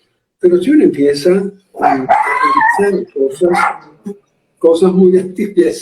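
A pet dog barks and yips in several loud, close bursts, with someone speaking Spanish in between and partly over the barking.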